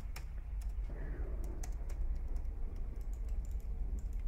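Mouse clicks and key presses from play of the horror video game The Joy of Creation, a quick irregular run of sharp taps close up over a steady low background hum, with no talk.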